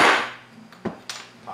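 A hammer pries nails out of a scrap wood block outdoors, giving a few sharp, separate knocks and creaks spaced irregularly, close and moderately loud, with a scraping rustle at the start.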